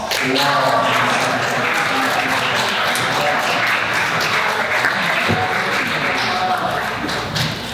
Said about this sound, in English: followed by a round of applause